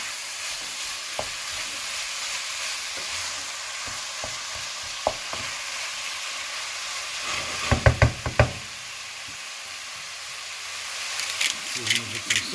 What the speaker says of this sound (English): Then we'll drop in our mince. So that's our mix into our onion.